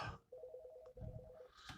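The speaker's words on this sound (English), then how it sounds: "it's the phone." A phone ringtone plays in a repeated electronic pattern, two bursts of pulsed tones separated by a short gap, fairly faint against the quiet room of a live-streamed podcast.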